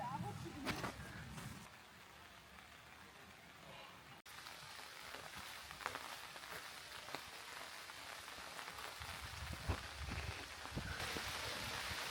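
Steady rain patters on leaves and surfaces in a forest, a dense continuous hiss with scattered nearby drops, while people laugh and chat over it.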